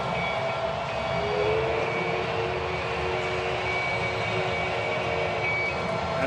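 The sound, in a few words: ballpark train running after a home run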